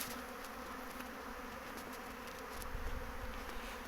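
A honeybee swarm leaving the hive in May, a dense, continuous buzzing of many bees near and far, steady and unbroken with no talk.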